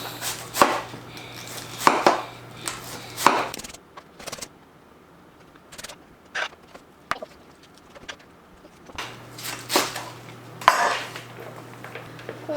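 Knife chopping through cabbage on a cutting board, shredding it fine for sauerkraut: bursts of quick crisp cuts at the start, then scattered single chops and small bumps, and another run of rapid cutting near the end, close and fairly quiet.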